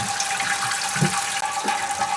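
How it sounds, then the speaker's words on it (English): Water runs steadily from the tap of the head sink on a boat, a continuous close splashing hiss with no voices. "I'm going to go forward and turn the tap on in the head sink and let the water run out."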